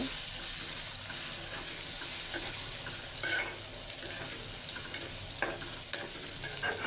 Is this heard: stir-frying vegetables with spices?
yes